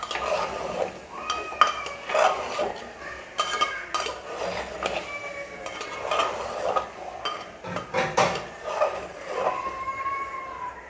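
Goat meat (khasi) curry is stirred in a pot with repeated scrapes and metallic clinks of a spoon over a low sizzle, close and with no talking.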